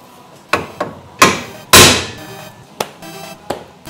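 A hammer strikes a part on a BMW E36 being readied for drifting, with a series of sharp, loud metallic blows at irregular intervals, one especially heavy with a ringing decay, and no talking.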